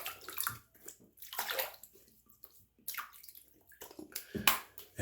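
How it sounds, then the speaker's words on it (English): Water splashes and sloshes in bursts as hands scoop it onto a face mid-shave, several separate wet splashes with brief pauses between, close and fairly loud. "So let me wet my face again."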